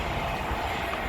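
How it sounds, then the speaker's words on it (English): Dense rushing rumble of trains passing in opposite directions, a steady broadband roar with no breaks, close and loud throughout, no voices over it. "That way and that way, double fucking train, mate."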